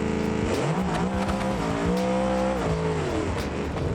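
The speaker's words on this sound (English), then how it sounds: "I'm gonna run nitrous on this pass and just let it eat." A nitrous-boosted drag car in the BeamNG racing game launches with a loud, rising engine roar that climbs through several gear shifts and mixes with a tire squeal, close and continuous with no voices.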